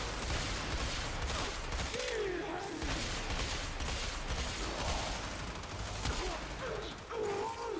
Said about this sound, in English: So many shots.